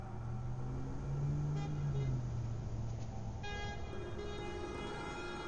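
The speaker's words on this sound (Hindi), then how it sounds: "उसने बहुत तेज़ हॉर्न बजाना शुरू कर दिया" A car horn sounds repeatedly over steady road and engine noise, with a sustained honk near the end, moderately loud.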